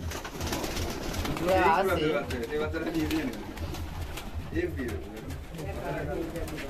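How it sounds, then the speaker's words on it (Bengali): Pigeons coo in low throaty murmurs close by, with people talking over them. "বন্ধুরা দেখতে পাচ্ছ দারুণ পায়রা"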